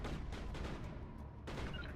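Dense, muffled gunfire from the Mass Effect video game, a continuous rattle of shots with a brief swell near the end, heard at moderate distance without talk.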